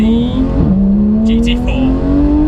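Porsche Cayman GT4 sports car with a manual gearbox driving hard, its engine note dropping briefly at a gear change and then climbing steadily under acceleration, loud and close from inside the cabin, with faint chirps in the background.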